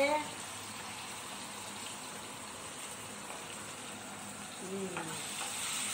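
Jackfruit curry seasoned with turmeric cooks in a pan with a steady, soft sizzle and hiss that runs throughout, broken by a few faint scraping sounds near the end.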